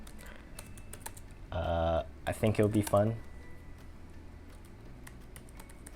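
Computer keyboard typing while transcribing The Great Gatsby: scattered, light key clicks tap away steadily in the background as a person briefly talks over them.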